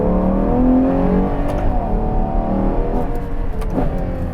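A powerful Italian supercar engine revs and roars steadily with rising and falling pitch, loud and close, with no voices.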